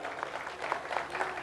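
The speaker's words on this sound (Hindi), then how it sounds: "जोरदार 13 लोगों के लिए तालियां बजाइए जरा" Scattered applause from a small audience at an organic farming conference in India, soft and fairly distant, with a few sharper claps standing out over a steady patter.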